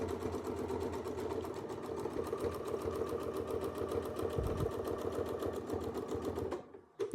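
A sewing machine double-stitches a quilt in one steady, fast, close mechanical hum with a rapid needle rhythm, then stops abruptly near the end.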